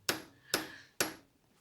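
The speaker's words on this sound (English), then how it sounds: "normal sort of domestic sort of DIY hammer, just a heavy one" A heavy domestic DIY hammer strikes metal three times at an even pace, each blow sharp and ringing briefly, fairly faint and close, during pendant bezel-setting jewellery work.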